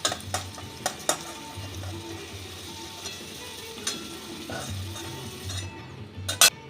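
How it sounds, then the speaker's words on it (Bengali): Cumin seeds and bay leaves frying in hot oil, a steady soft sizzle close by, punctuated by repeated scraping clicks and taps of a utensil stirring against the pan. "এই তেলে দিয়ে দিচ্ছি একটা ফোড়ন, সাদা জিরে আর তেজপাতা।"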